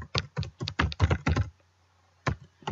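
A group name typed on a computer keyboard: a quick, close run of crisp keystrokes, a pause of near silence, then a final pair of key taps.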